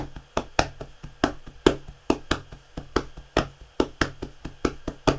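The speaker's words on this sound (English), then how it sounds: "we called it the laps or the chest sound" Body percussion of hands slapping the chest and lap, played as a steady rhythmic groove of sharp, close slaps with a regular repeating beat and no talking.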